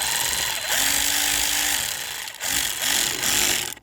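A power tool tightening a camshaft position sensor bolt with an 8mm socket on a 2010 Chevrolet Equinox engine, a loud, close, continuous buzzing run with a short pause midway before a second burst.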